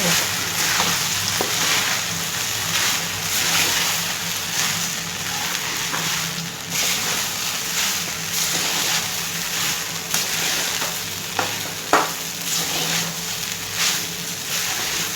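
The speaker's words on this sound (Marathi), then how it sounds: "एकदम कमी तेलामध्ये हा साबुदाणा परतलेला आहे" Sabudana stir-fries in a little oil with salt and crushed peanuts, giving a continuous soft sizzle with occasional stirring scrapes and clicks, close up and without speech.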